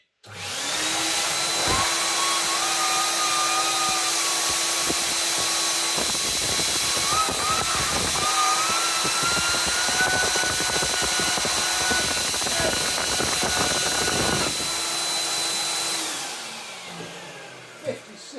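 A 1982 Hoover Powervac Wet&Dry S4266 vacuum cleaner starts up and runs with a loud steady motor whine and airy roar, with rattling suction noise in the middle, then winds down at the end.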